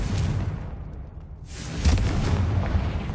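A Confringo blasting spell goes off in Hogwarts Legacy, a loud broadband rumbling blast that briefly thins out, then swells into a second deep booming burst that rolls on to the end.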